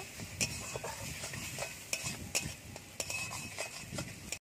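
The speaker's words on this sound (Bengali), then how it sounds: "ডাল, ডালটা একটু কষিয়ে নেব।" Dal (lentils) sautéing in a pan, with a spoon scraping and clinking against the metal in an irregular stirring rhythm over a quiet, soft sizzle, heard up close with no talking.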